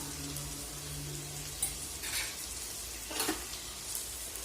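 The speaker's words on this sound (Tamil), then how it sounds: "இப்போ கத்திரிக்காய் நல்லா வதங்கிடுச்சு" Brinjal sautés in a pan for kathirikai poriyal, a quiet, steady sizzle with a few brief scraping stirs and a low background hum.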